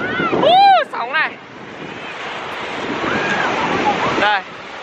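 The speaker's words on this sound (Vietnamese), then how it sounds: "Sóng này." Ocean waves breaking on a beach at Vũng Áng, a broad steady surf wash with wind buffeting the microphone, while people chatter and a child calls out over it.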